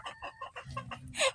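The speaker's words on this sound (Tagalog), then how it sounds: "Native na manok." Native chickens clucking close by in a short burst of rapid clucks and squawks, ending in a louder, sharper call.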